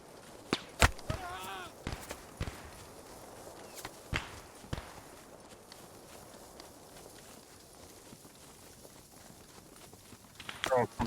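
A group of soldiers running together in the video game Post Scriptum, scattered footfalls and sharp impacts under someone talking in Russian, with a louder burst near the end.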